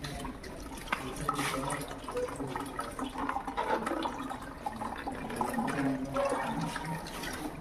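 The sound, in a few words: water from tank flushing toilet via cleaning machine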